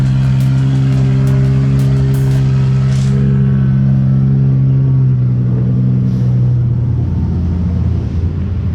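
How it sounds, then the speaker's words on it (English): A drift car's engine idles loudly and steadily close by while warming up, a deep continuous rumble that slightly settles in pitch toward the end. "Car's still getting warmed up."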